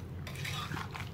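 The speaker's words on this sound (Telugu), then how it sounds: "ఇప్పుడు నిమ్మ రసంతో కూడా ఒకసారి మిక్స్ చేసుకుందాము" Amla (Indian gooseberry) pickle pieces are stirred with lemon juice in a metal vessel, giving a brief, close scraping and clinking of a spoon against the container.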